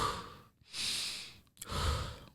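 Two slow, deep breaths, each a long airy inhale or exhale with a soft sigh-like finish, close and fairly quiet, separated by short silent pauses, with no talking.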